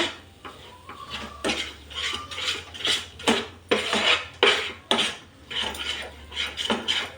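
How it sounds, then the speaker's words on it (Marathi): Khoa (milk solids) being stirred and scraped in a pan over low heat, with a steady rhythm of close, loud spoon strokes scraping across the metal and faint clinks in between. "आता खवा कोरडा व्हायला लागलेला आहे असा छान बारीक गॅसवर दहा मिनटं मस्त परतायचा आपल्याला"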